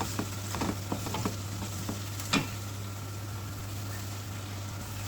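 Vegetables with green chilli, crushed ginger and chopped garlic are stirred in a pan over a steady sizzle, with soft scraping taps of a spoon near the start. A low constant hum runs underneath.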